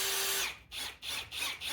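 A Ryobi HP compact cordless drill whirs steadily at low speed, then stops and restarts in several short bursts, each a sustained mechanical whine, close and fairly loud.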